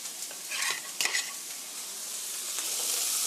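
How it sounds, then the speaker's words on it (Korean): Onions sauté in a pan, giving a steady sizzle with a few scrapes and stirs of a utensil, close and moderately loud, with no talking. "양파가 노릇노릇하게 볶아질 때까지 3미닛 3분 정도 볶아주세요"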